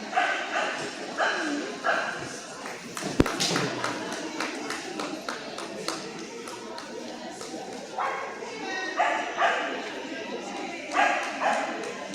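Small Papillon toy dog at a kennel club dog show, Toy Group ring, giving a few short, sharp barks and yips in bursts, with an announcer talking over a steady hall murmur.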